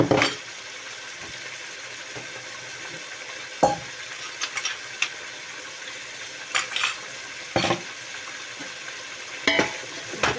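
Masala fries in a pan as a spoon stirs it, a steady low sizzle broken by occasional sharp scrapes and clinks of the utensil against the metal, close up.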